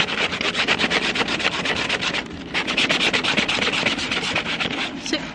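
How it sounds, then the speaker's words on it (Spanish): Sandpaper rubs back and forth over a wooden cut-out name in quick, even strokes, a close scratchy rasp repeating steadily with a brief pause midway. "Voy a probar a lijar el nombre de Marta"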